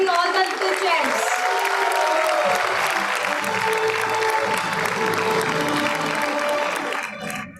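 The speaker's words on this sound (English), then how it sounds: "Parents, keep on cheering all the little champs." At a pre-primary school convocation ceremony, parents clap steadily and densely, a sustained wash of applause with a few cheers. The clapping fades out at the end.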